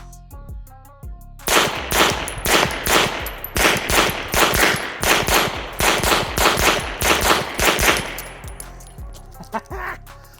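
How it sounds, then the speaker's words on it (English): Pistol shots fired at a target 7 yards away on a shooting range, a loud, close, rapid string of many evenly spaced cracks lasting several seconds before fading to quiet. "Sure, I'm shooting at 7 yards"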